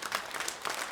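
Brief burst of congregation applause at a Sunday church service in Daegu, welcoming a newcomer to worship; a dense, steady wash of many clapping hands with no voices.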